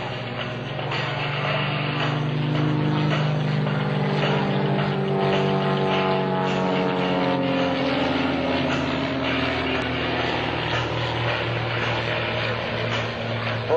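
Two aerobatic propeller airplanes of the Split Image team roar past overhead at the 2004 Sussex Airshow, a loud sustained drone with engine pitch sliding downward as they pass, no voices.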